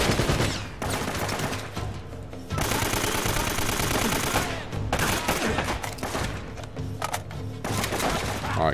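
Bursts of heavy gunfire from the PS3 video game Uncharted: Drake's Fortune, with loud sustained volleys and short pauses between them, dense and close throughout.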